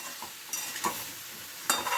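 Tomato cooks in a covered pan with a faint, quiet simmer and sizzle, broken by a few short knocks and scrapes.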